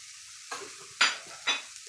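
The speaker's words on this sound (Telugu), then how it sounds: "వేసి ఇంకా బాగా కలిపి ఇంకా కొద్దిసేపు ఈ కొబ్బెర అంతా కొంచెం వేయించుకున్నాము" Coconut, garlic and chili powder stirred and fried with broccoli in a pan on low heat: three quick scraping strokes of a spoon over a soft sizzle, close and clear.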